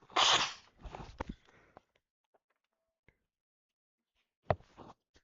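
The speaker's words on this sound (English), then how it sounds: "Some really bad" One loud, close sneeze bursts out at the start, followed by smaller sniffly fits, then a long near-silent pause and a final sharp sneeze.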